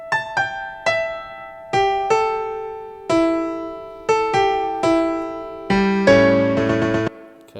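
Solo piano plays the Ark Genesis theme melody, a sequence of about a dozen struck notes with ringing decays and a few fuller chords near the end, clear and close with no talking.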